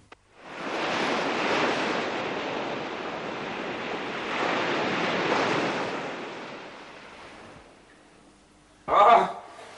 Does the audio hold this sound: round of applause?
no